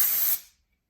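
A single close spray burst of mint hair product hisses loudly for about a third of a second, then cuts off into silence.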